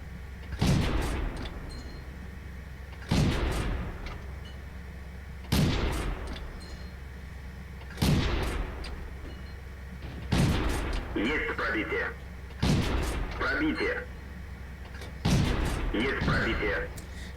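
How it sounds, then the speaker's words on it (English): A T-46 light tank's 45 mm gun fires in a video game, seven loud, sharp cannon shots spaced about two and a half seconds apart over a low engine hum, with someone talking between shots. "Here I am trying to lead my shots to inflict a lot of damage in a minute."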